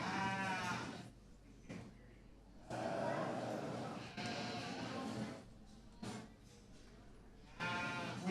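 Sheep bleat at a county fair sheep and goat show in Worth County, several wavering calls rising over a loud, busy show-ring background with people talking nearby.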